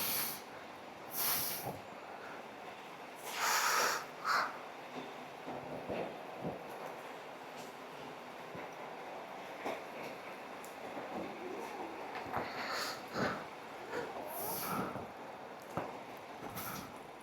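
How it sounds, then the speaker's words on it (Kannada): Heavy monsoon rain near Kaginahare in the Sakleshpura hills, a steady broad hiss close by with scattered louder splashy bursts and patters rising and falling throughout, no voices. "ಮಳೆ ಜೋರಾಯಿತು."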